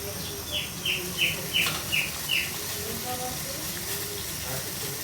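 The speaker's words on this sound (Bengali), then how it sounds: "একটা ঘুঘু পাখি আসে কি সুন্দর ডাক দেয়" A dove gives a series of six clear, evenly spaced calls, then falls quiet over a steady hiss of outdoor background noise.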